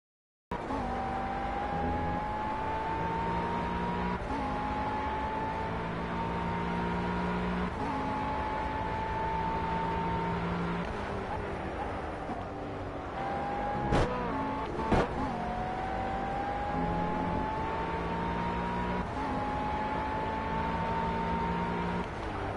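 GT3 race car engine in the racing game Project CARS, a steady sustained drone with shifting pitch through gear changes, continuous and loud with brief clicks, no talk.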